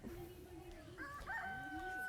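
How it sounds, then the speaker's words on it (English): A rooster crows in a Fijian village, its drawn-out, rising call ringing out clearly at close range over about two seconds against soft outdoor background noise. "Chicken."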